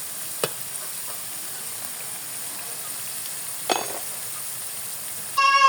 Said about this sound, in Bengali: এই মধ্যে আমি আলুগুলো ভেজে নিব